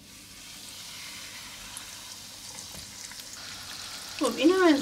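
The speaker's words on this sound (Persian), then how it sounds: "ببینید آردای اضافیش رو میتکنم، میذارم داخل روغن" A flour-dusted fish fries in oil in a pan, giving a faint, steady sizzle in the background, with a voice talking briefly near the end.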